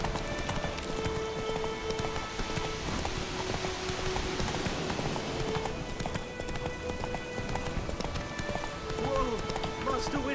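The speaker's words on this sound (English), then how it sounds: "Run, Roach." Roach, Geralt's horse in The Witcher 3, gallops in a steady clip-clop of hooves beneath rain-like patter and in-game ambience, with continuous game sound throughout.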